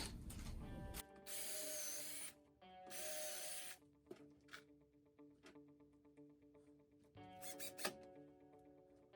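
Screws being driven into the wooden parts of a floor bed, with bursts of loud power-driver whirring alternating with quieter ratcheting clicks and squeaks, close by and without talk.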